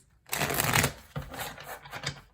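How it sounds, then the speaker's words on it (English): Tarot cards being shuffled, two quick riffling bursts, close and crisp, the first stronger and the second trailing off into lighter flicks. "Last shuffle."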